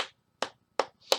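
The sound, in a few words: hand clap imitating a wet clapping sound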